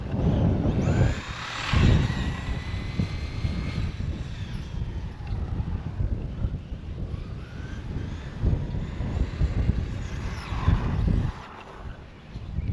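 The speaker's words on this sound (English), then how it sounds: "Fairly windy." Steady wind buffeting a microphone outdoors on a warm day, a continuous low roar with gusts swelling louder at moments, alongside a faint engine-like hum from a Traxxas Slash 2WD RC short course truck.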